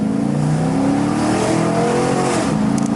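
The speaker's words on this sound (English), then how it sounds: "I'll do a little pull since I need gas." A 2003 Chevrolet Silverado SS pickup truck, showing a check engine light, accelerates hard in a sustained, loud engine pull from inside the cab, with a steady rising drone and no talk.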